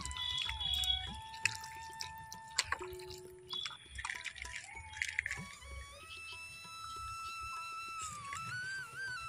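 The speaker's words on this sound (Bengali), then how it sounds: "এরপর সাবুটাকে আমি এইভাবে চেপে চেপে নেব" Water dripping and squishing out of soaked sago pressed by hand for dry fuchka, irregular wet squelches and trickles up close, then a steadier quiet flow, no voices.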